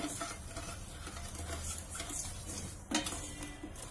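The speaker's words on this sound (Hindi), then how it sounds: "अब हम चीनी को मेल्ट करने तक इसके चलाएंगे" Sugar and water stirred in a pan while making a one-thread syrup for makhana katli, a continuous close scraping stir with light metallic clinks and a soft sizzle, without speech.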